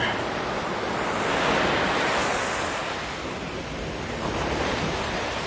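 Ocean surf washes ashore at Waikiki Beach in a steady, loud roar of breaking water, with wind buffeting the microphone and no voices.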